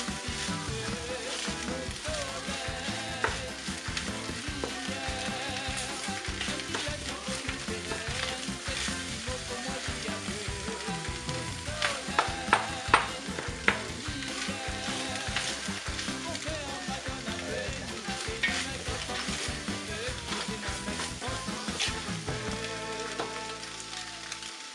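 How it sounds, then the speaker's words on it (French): Onions fry with a steady, dense sizzle in a pan for a long stretch, with occasional stirring clinks and scrapes, close by and fairly quiet. "Bien mélanger les oignons pour ne pas que ça reste en bloc."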